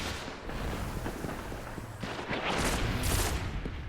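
Hand cannon fire in the video game Destiny, a rapid series of booming shots and impacts layered over constant battle noise, loud and dense throughout.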